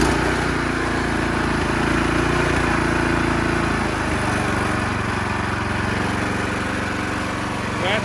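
A repaired garden tiller engine runs and settles into a steady idle, a close, constant mechanical drone that holds even for several seconds.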